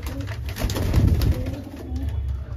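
Small Madrasi pigeons kept as breeding pairs coo steadily in a loft, a layered low cooing from several birds close by, with no talk.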